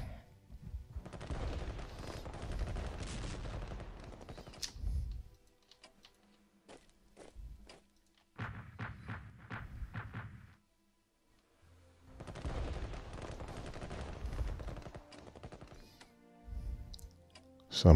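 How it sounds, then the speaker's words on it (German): Artillery defensive fire in Strategic Command WW1, several loud rumbling barrages of shots and booms separated by quiet gaps, with someone speaking briefly in between. "Abwehrfeuer durch Artillerie."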